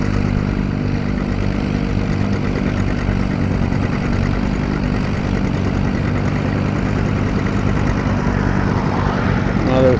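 Antique John Deere diesel tractor at an outdoor plow day in a field, a loud, steady low engine chug running throughout, close and unbroken, with faint voices nearby.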